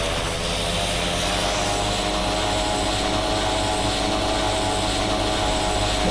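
A TBM 850 turboprop engine just after takeoff holds a loud, steady, broadband drone with a faint tonal hum, continuous and close, with no speech.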